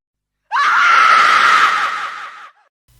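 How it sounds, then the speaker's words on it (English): A cartoon train character lets out a single shrill scream of fright, loud and close, lasting about two seconds before cutting off into silence. "Then her face froze in shock, followed by another scream."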